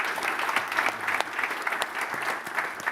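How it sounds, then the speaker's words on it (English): An audience at a London tech conference applauds, a brief burst of dense, even clapping from many hands in an indoor hall. "Let's give her a round of applause."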